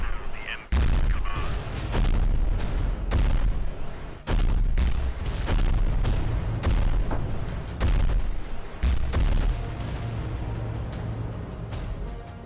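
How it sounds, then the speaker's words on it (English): Volcano cannons fire in the video game Adeptus Titanicus: Dominus, a series of heavy booming blasts at irregular intervals, loud and close, with rumbling tails between shots. "Let's see if I can get any shots here. Just the volcano cannons,"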